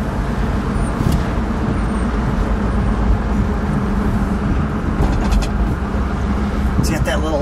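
A 1959 Edsel Corsair convertible in red rides along with a steady, loud low rumble of engine and road noise, with some brief higher clatter near the end.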